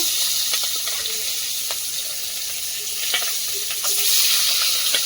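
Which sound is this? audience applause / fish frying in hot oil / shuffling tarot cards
fish frying in hot oil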